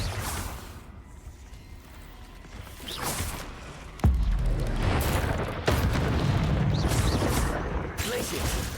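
Confringo fire spell blasting in Hogwarts Legacy: loud booming explosions with sharp bursts near four and five and a half seconds, under a dense roar of continuous battle noise.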